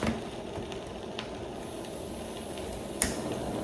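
A Russian combat ration heater gives a faint, steady sizzle up close, with a small sharp click partway through and no speech.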